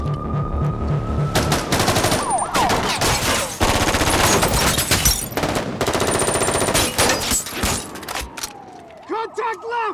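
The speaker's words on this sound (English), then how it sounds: "Contact right! Range 100! Suppressive fire!" Bursts of sustained automatic suppressive gunfire in a film shootout, loud and near, with rapid rattling volleys broken by brief gaps, tinkling debris and shouted voices between them.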